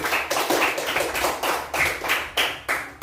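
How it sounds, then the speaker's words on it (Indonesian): A school class claps for a group that has just presented, a roughly unison rhythmic clapping in bursts about every third of a second, close and fairly loud, with no talk. "sekarang kita beri tepuk tangan buat kelompok 1 yang sudah presentasi."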